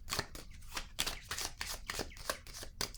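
Playing cards riffle and slap as a deck is shuffled and a card is drawn, a quick run of crisp papery bursts close by, with no voices.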